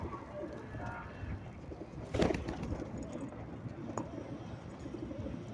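Pigeons coo softly amid a busy background of rustling and faint bird calls, with a brief louder burst of noise near the middle.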